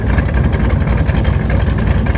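Engine idling fast with a stuck choke, a steady loud close low chugging drone with a fast even pulse throughout, no talking.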